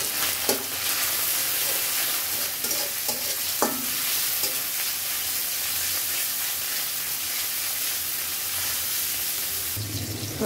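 Salt-marinated chicken with chopped ginger and garlic frying in a home kitchen pan for chicken chowmein, with a steady loud sizzle, occasional sharp spatula scrapes and stirring knocks, no talking.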